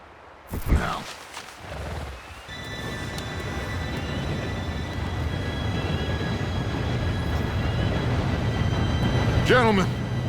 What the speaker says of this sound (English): Train should be here any minute.